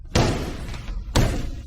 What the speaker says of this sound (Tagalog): Ibangga ang pinto.